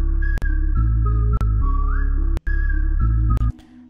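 A whistled melody sample plays over a synth pad and deep bass line in a hip-hop beat built in FL Studio, with sustained tones that glide between notes and short gaps marking the phrase breaks.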